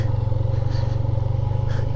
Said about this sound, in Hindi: अब यहाँ पे रेत ज़्यादा हो गई है तो बाइक इधर इधर हो रही है, थोड़ा स्लो हो जाते हैं